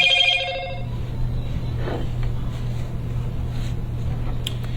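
A telephone rings with a brief electronic trill at the start, then a quiet room hum follows with no talking.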